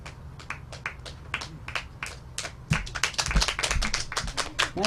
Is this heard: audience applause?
yes